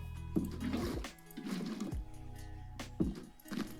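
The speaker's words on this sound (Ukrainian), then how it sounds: "Виливаємо воду." Water poured out of a bucket in Minecraft, a few short splashing gushes in a game soundscape with sustained tones underneath, no talking over it.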